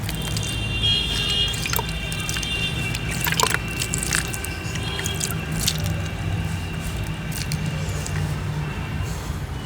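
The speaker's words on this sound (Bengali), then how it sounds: "এবার আমি এতে অল্প করে জল দিয়ে দেবো" Water trickles and drips onto soil around a freshly repotted adenium plant, a continuous soft splashing with scattered drips, close by, with faint voices underneath.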